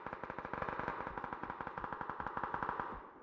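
Rapid automatic gunfire in the battle royale game PUBG, a dense continuous burst of sharp repeated shots lasting a few seconds, moderately close and with no talk.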